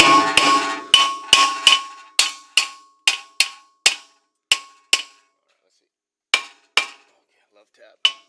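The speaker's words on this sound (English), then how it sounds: "Take a love tap and see what happens to that rotor, okay?" A hammer strikes a brake rotor on the front of a 2005 Honda Accord, about fourteen sharp metallic taps in a loose rhythm, ringing and close, faster at first, then a pause and a few final knocks.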